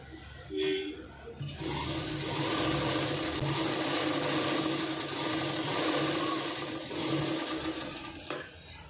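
A sewing machine stitches the front part of a blouse, running in a steady, continuous whir after a brief start, close and fairly loud, with a faint voice underneath.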